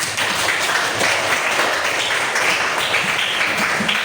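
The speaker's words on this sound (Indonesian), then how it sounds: "Kita beri aplaus" A room audience applauds a group presentation in a class, a dense, even burst of clapping that holds steady for several seconds with no talk.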